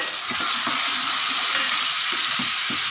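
Tomato, garlic and ginger paste frying loudly over golden brown onions in a ghiya dal preparation, a constant dense sizzle with repeated spoon scrapes and taps against the pan.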